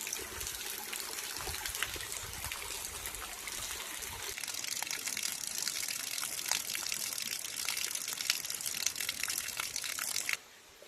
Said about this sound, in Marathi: किती दिवसांनी आहे ना पाकाडीला पाणी आलंय बघा